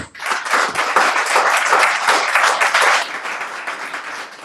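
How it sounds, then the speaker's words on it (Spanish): Audience applause at a feminism forum: a dense, loud wash of many hands clapping that holds steady for several seconds, then eases slightly toward the end. "Muchas gracias, le queda un aplauso."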